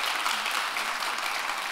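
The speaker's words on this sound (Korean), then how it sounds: "다시 한번 박수 한번 주시고요." Conference audience at a 2018 international finance event in Jeonju applauding, a continuous dense wash of many hands clapping, bright and steady throughout the short stretch.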